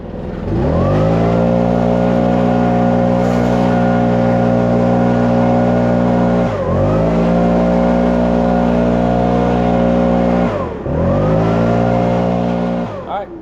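Gas leaf blower clearing hedge-trimming debris after an overgrown hedge cleanup, a loud, steady engine drone running close by for the whole stretch, with two brief throttle dips before it surges back up.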